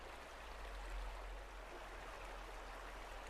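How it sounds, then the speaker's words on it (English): Water flowing in a stream in the Cradle Mountain rainforest, a faint, steady wash of rushing water with a low rumble beneath it. "Very pleasant sound of the water."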